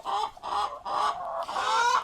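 Rooster clucking in a farmyard, among Rhode Island Red and Black Australorp chickens, four bursts of throaty, nasal calls in quick succession, close and fairly loud with no speech over them.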